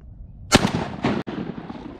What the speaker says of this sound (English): I missed my shot right there